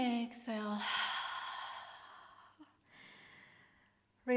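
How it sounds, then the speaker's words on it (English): A long, deep exhale during prenatal morning yoga breathing, heard close and soft as it trails off, with a brief inhale at the start and another breath at the end. "And exhale."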